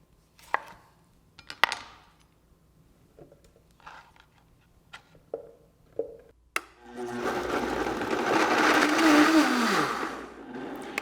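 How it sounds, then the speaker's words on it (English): Tomatoes are roughly chopped with a few sharp knife taps, then a blender roars on and whirs steadily to the end, loud and close. "Roughly chop and blend the tomatoes."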